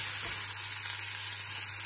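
Chickpeas sizzle steadily in very hot oil for a chana stir fry, giving a continuous close crackling hiss with no pauses and no voices.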